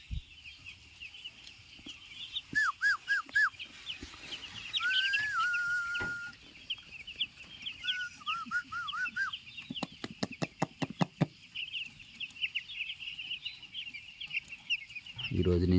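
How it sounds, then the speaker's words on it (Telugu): A hen clucks softly while tiny baby chicks peep in high, thin chirps close by, with short bursts of rapid clicking and scratching between the calls. "మాకు చిట్టి కోడి పిల్లలు వచ్చినాయి"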